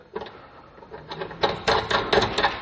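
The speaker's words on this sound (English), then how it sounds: "I'm going to use the low noise knockometer, a little bit of a taparoo here" A mallet knocks on the spline hub of a Moto 4 ATV, giving a series of close, muffled taps that grow louder toward the end, with no talking.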